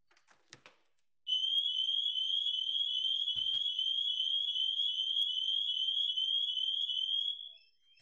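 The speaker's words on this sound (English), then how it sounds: "Let's test the alarm on the ADT Home Security system." An ADT home security system alarm goes off as one continuous, piercing electronic tone lasting about six seconds, preceded by a few faint clicks and then cutting off.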